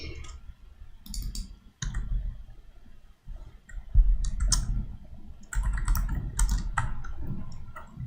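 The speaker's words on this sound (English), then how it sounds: "I will type here a couple name" Typing on a computer keyboard, bursts of quick close clicks and key taps separated by short pauses, over a low background hum.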